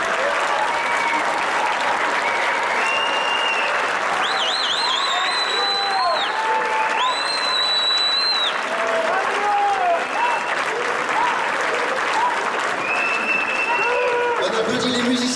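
Audience applauding a music school orchestra, dense sustained clapping for the whole stretch with cheers and whistles rising above it.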